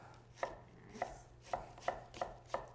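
Six crisp knife chops on a cutting board while cooking an all-American dinner at home, evenly spaced about half a second apart, close and fairly quiet over a low background hum.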